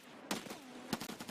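Two sharp gunshots about half a second apart in Escape from Tarkov on the Shoreline map, fairly faint and a little distant, with a brief echoing tail after each.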